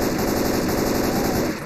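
Sustained rapid automatic assault rifle fire in Left 4 Dead 2, loud and continuous with no pauses, dense overlapping shots throughout.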